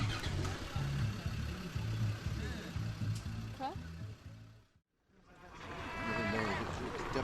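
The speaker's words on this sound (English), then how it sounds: "there are cars and cars and cars going past" A stream of cars drives up a mountain road on Moorea as people evacuate for a tsunami, with a steady close engine and road rumble that briefly drops out and then returns, while people talk over it.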